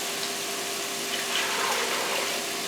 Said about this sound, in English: First what we're going to do is going to add our water.